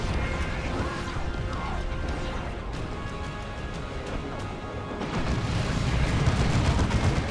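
Explosive impacts and crashing missile fire roll through a Warhammer 40,000: Dawn of War 2 battle between Space Marines and Eldar, a dense, loud barrage that swells heavier near the end.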